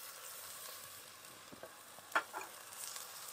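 Ginger garlic paste frying lightly in oil for pav bhaji, a quiet steady sizzle with a few soft clicks and stirring scrapes, faint and close, no voices.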